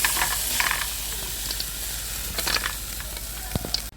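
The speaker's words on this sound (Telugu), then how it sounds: "ఈ లోపల ఎర్రగడ్డ, పచ్చిమిర్చి కూడా ఫ్రై చేసుకున్నాం" Onions and green chillies frying in oil in a kadai give a steady, close hiss and sizzle, with occasional stirring clicks and scrapes against the pan and no voices.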